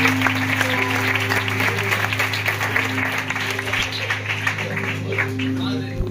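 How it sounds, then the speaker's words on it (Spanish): A church congregation applauds together in a steady wash of clapping, layered over a sustained musical drone and a voice. "¿Qué les parece si le damos un aplauso al Señor con bendición?"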